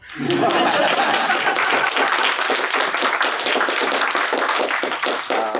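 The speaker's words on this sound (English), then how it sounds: "You may applaud now." Audience at a PonyCon Holland 2022 convention panel breaks into loud, sustained applause, a dense crowd of clapping hands filling the whole stretch without any talk.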